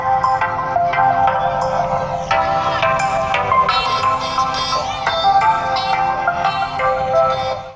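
A ringtone plays through the small speaker of a Realme C21Y phone, a bright, tinny melodic chime tune with quick plucked notes repeating at steady loudness, close and alone.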